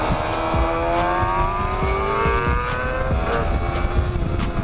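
A Yamaha R3 motorcycle engine revs and accelerates on a mountain road, its rising whine loud and steady throughout, recorded close from the rider's position with no talking.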